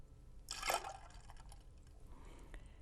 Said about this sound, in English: we are also going to add about the same amount in the shaker of olive brine